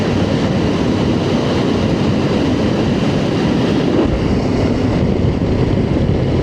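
A Honda NX500 motorcycle rides along a road through Numinbah Valley, a loud, constant engine and wind roar heard from on the bike, dense and unbroken throughout.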